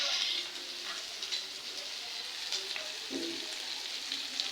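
Vegetable bhaji frying in a pan gives off a steady, soft sizzling hiss, fairly quiet and continuous, with a few faint crackles and no voices.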